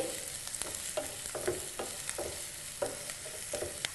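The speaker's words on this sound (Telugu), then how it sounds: "ఆనియన్స్ ఆయిల్లో మగ్గుతున్నాయి కదా" Chopped onions cook in hot oil in a pan for a curry, with a soft steady sizzle broken by repeated scraping strokes of a spoon stirring them, close up and with no voices.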